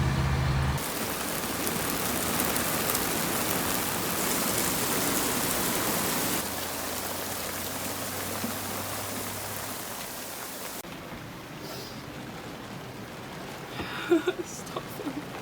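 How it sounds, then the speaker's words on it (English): Steady rain pours onto a sailboat as a dense hiss, easing partway through and then thinning to lighter patter with a few scattered drops and knocks near the end. "it's starting to rain again"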